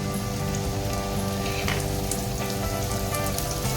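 Finely chopped coriander leaves fry in oil and masala with a dense, close, continuous sizzle and crackle, steady and loud throughout.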